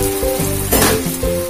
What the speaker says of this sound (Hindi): डोसे के लिए मैंने तवा गरम कर चुका है पहले से, इसमें एक चम्मच जैसा तेल डालेंगे। डोसे का बैटर अब डालेंगे